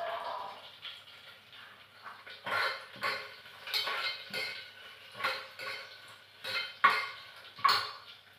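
Tempering spices going into a frying pan with dried red chillies and garlic already frying, clinking and scraping as they are stirred, a steady run of close metallic knocks over a faint sizzle.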